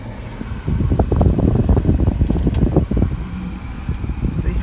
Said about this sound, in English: Get some AC going.